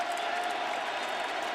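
Dense, sustained roar of a large football stadium crowd cheering at a college championship game between Texas and Nebraska, a continuous wash of distant voices with no clear breaks.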